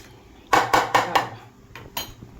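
A spoon scraping and knocking against a pot while rice is stirred with ghee, four quick close clinks in a row, then a pause and two softer scrapes, with no talking.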